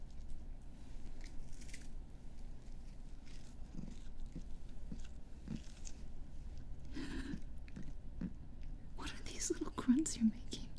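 A cat chews freeze-dried chicken chunks while lying down, soft close crunching and mouth sounds scattered through, growing busier near the end, with a person whispering quietly over it.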